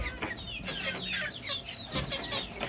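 A hen clucks close by with her three young chicks peeping, a run of soft rhythmic clucks and high chirps over quiet background.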